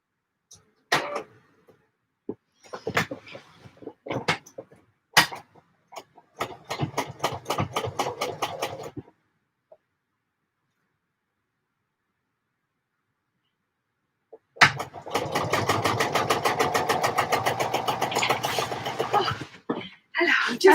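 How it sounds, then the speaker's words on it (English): Home sewing machine stitching fabric for a Closet Case Patterns pouf, with short stop-start runs of rapid mechanical stitching early on, a long pause, then a sustained steady burst of stitching, close and fairly loud. "let's try and sew this again so that it actually fits together"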